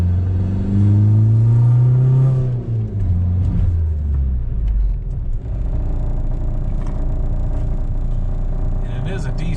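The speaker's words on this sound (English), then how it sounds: "man, this car makes a ton of noise" A diesel car on solid engine mounts rumbles loudly and steadily, its low drone dropping in pitch as the revs fall, then settling into a coarse, vibrating idle that runs throughout.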